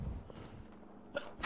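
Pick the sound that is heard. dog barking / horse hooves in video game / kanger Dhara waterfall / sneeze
sneeze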